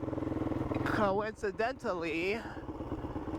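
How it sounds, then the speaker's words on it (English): Kove 450 Rally motorcycle engine and exhaust with a rock-damaged exhaust, a steady throbbing single-cylinder note that rises and falls with the throttle while a rider talks over it. "now the exhaust note has changed on my bike a little bit"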